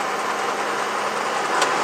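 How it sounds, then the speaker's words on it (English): A bobtail semi truck engine in the rain, rolling into the throttle with a steady, loud, continuous drone held close and even throughout, no talk. "I'm gonna roll into the throttle. Y'all can listen to it."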